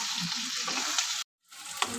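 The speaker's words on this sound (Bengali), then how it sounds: "দেখো বন্ধুরা, ভাজা প্রায় আমার হয়ে এসছে" Chicken pieces frying in oil in a pan, giving a steady close sizzle with stirring scrapes, briefly cut to silence before resuming.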